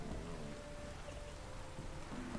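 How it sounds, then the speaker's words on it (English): Rain falls in the video game The Witcher 3: Wild Hunt as a steady, even hiss with a low rumbling bed, continuous and moderately faint, with no speech. "The rain actually helps kind of identify the direction of the ground as well by going straight down into it."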